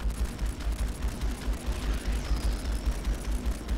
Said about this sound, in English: I want to shoot this thing.